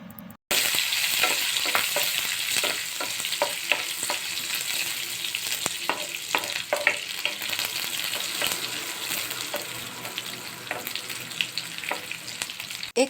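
Garlic, ginger and cumin frying in a pan for mushroom choila, a steady loud sizzle with stirring scrapes and occasional clatters, no voices.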